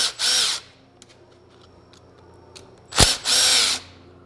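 A power tool spins out bolts on a Polaris PRO R engine during a cam install, with two loud whirring bursts near the start and end separated by quiet clicks and faint handling noises.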